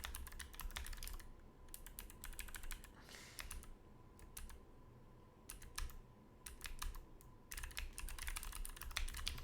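Computer keyboard being typed on while writing C++ code, with bursts of quick, close clicks and short pauses between runs of keystrokes. Nobody speaks.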